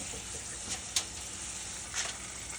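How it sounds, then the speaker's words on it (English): Potatoes pan-frying in a skillet give a steady, close sizzle with a couple of brief utensil knocks along the way. "we're just gonna rinse and repeat until we have all our potatoes pan fried"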